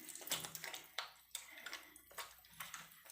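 Water is squeezed out of a cat's soaked fur during a bath, making a faint series of splashes, drips and trickles in uneven bursts.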